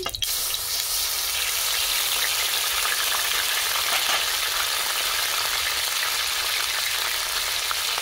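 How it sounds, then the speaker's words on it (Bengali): Onion paste fries in mustard oil in a kadai, a loud, steady, dense sizzle that runs unbroken from start to finish with no talking. "কড়াতে সর্ষের তেল দিয়ে দিচ্ছি। পেঁয়াজ বাটা দিয়ে দিচ্ছি"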